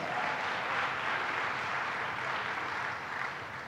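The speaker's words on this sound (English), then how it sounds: "Let's give them a round of applause." A crowd at a Brooklyn announcement event by the New York governor gives senators a round of applause, a continuous, fairly distant swell of clapping that holds steady and then tapers slightly toward the end.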